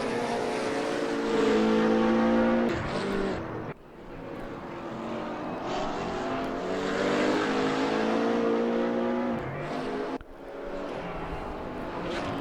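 A BMW Z4 race car in the GTR3 racing game drones with a steady, loud engine note that shifts pitch as it accelerates, with two sharp gear-change dips partway through; no one speaks.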